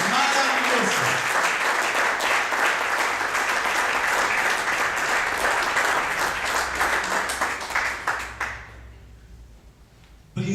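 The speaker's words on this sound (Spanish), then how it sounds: "Dame un aplauso grande al Señor" Congregation at a Spanish-language church service breaking into loud, sustained applause with voices and cheering mixed in, a dense roar that fades away near the end, followed by a sudden short sound.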